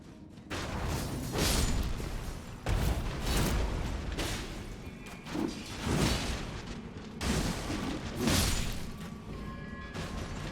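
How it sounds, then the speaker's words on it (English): Fireworks banging outside, heard indoors as a run of loud, broadband thuds and booms repeating every second or two throughout, fairly close and dominant with no talk. "Sorry if you can hear that banging. It's idiots with fireworks outside."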